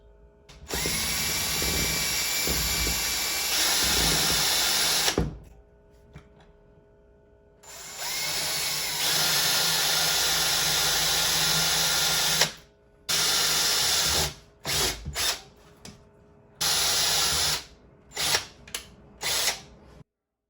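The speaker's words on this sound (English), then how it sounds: "we're gonna take our drill and drill those holes out a little bit for the screws" A power drill whirs in several long bursts, then in short stop-start pulses, drilling out screw holes for blind mounts, loud and close, with brief quiet pauses between runs.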